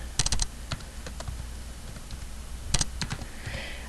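Keys clatter on a computer keyboard in quick, close clusters with pauses between bursts, fairly quiet and with no voices.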